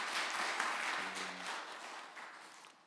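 A church congregation at a Sunday worship service breaks into applause, a dense wash of many hands clapping that swells and then gradually fades over a few seconds.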